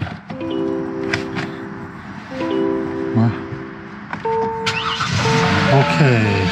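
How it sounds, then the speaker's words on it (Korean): A 2013 Hyundai Equus VS380 Premium starts at an inspection bay: chime tones ring, then the engine catches with a rising rush and settles to a running hum, while someone talks throughout. "일단은 일발 시동 잘 걸리고."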